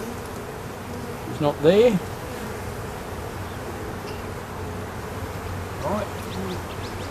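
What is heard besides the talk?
honeybees buzzing on a hive frame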